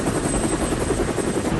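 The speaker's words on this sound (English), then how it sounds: "There's a government helicopter just put down ahead of us." A government helicopter sets down nearby, its rotor beating in a dense, steady, moderately loud thrum through the whole short stretch.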